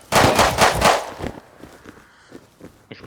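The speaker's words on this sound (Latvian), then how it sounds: "viņš pa mani šāva" Gunfire in the video game Rust: a loud rapid burst of shots in the first second, then quieter scattered thuds and steps with no talking.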